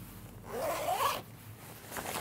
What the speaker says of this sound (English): They have the zipper up the side.